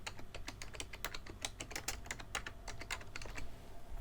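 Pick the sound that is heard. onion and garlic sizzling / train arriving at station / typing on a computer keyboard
typing on a computer keyboard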